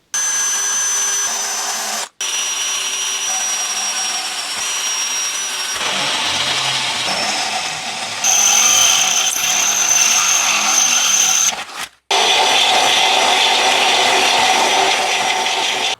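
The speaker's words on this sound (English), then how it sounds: "Then I'll drill it progressively, working my way up to, I think a 10mm hole" A power drill whines loudly and steadily into the metal chassis of a V8 Land Rover Discovery, with a harsh high-pitched grind, cutting out briefly twice before starting again.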